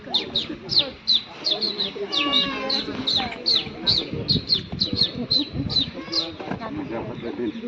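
A person imitates sparrow chirping with a rapid run of sharp, high, bird-like tweets repeated in quick succession, close and clear, with voiced sounds mixed between the chirps.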